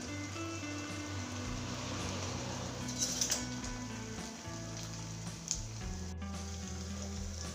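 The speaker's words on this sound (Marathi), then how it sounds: "थोड्याशा तेलावर परतून घ्यायचे आहेत। गॅस मध्यमच ठेवायचा आहे।" Upvas thalipeeth flatbread shallow-fries in a little oil over a medium flame, giving a steady, soft close sizzle with a few faint clinks of a utensil.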